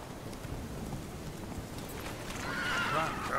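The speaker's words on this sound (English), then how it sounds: "Can my horse at least go through this?" A horse runs in The Witcher 3, its hoofbeats thudding under steady rain and rumbling weather, with a faint whinny-like tone near the end.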